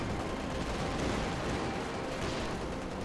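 Sustained, dense battlefield din from a Company of Heroes 2 match as a Panzer IV tank fires, heavy booming gunfire and rumbling explosions blending into a loud, continuous roar with no clear gaps.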